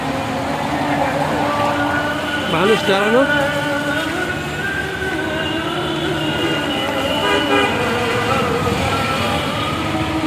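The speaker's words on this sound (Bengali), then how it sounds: "এই যে এখন দু একটা গাড়ি যাচ্ছে" Cars and buses edge through a rainy evening traffic jam in Dhaka, with a steady engine and road drone, sustained horn tones and a brief wavering honk, and people talking nearby.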